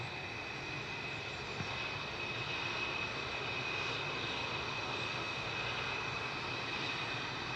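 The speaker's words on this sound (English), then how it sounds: "Lufthansa 949 to Frankfurt going next, DARRK. This is an A321 Classic, 30 years old." A 30-year-old Lufthansa Airbus A321 Classic jet sits with engines running at Manchester Airport, a steady distant drone with a thin constant whine, faint and unchanging for several seconds, no voices.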